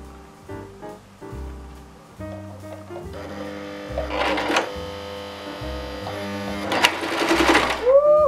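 A home sewing machine runs while stitching a unicorn plushie, its thread prone to snapping, making a steady mechanical whir with tonal humming that rises and falls over about eight seconds beneath voices.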